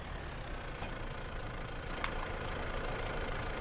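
A tractor engine idles in a farming video game, a steady low rumble that runs without a break and stays at a constant, moderate level.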